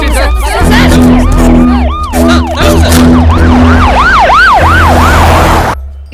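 An ambulance siren wails loudly and close, its swooping rising and falling tone repeating over traffic and crowd noise, with a steady low horn-like drone underneath before it cuts off abruptly.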